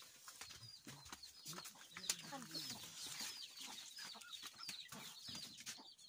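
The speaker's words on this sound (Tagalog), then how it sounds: "Maraming manok guys." A flock of chickens clucks and chatters continuously, with overlapping calls that sound fairly close, softly over a quiet outdoor background while a few voices speak faintly.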